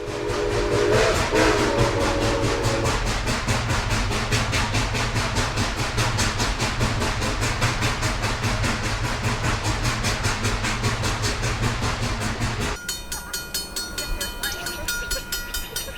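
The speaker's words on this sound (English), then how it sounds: "we could hear the engine coming before we could even see it" Steam locomotive C&O 2765 rumbles steadily along the track in fog with a continuous mechanical roar, a brief whistle-like tone near the start, and a change in texture toward the end.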